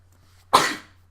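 A single sharp sneeze bursts out once, close and fairly loud, then fades quickly, with quiet room tone before and after during a casual talk about Nintendo games at E3.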